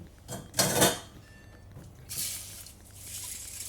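A few quick rattling clatters of beans dropping into a metal pot, with quieter scraping and shuffling in between.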